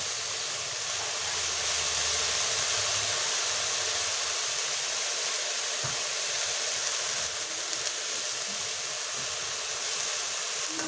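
Coriander leaves dry-roasting in a pan with no oil as their water cooks off, a steady broad hiss and sizzle holding level throughout with no voices.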